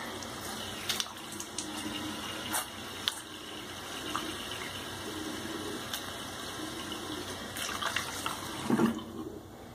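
Running water flows steadily from a tap while someone rinses after a head shave with a Feather blade razor, making a constant close wash with a few splashes and no talk.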